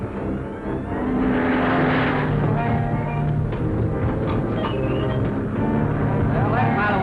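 A propeller airplane from a 1941 film drones steadily and loudly throughout, its engine hum continuous while voices talk over it.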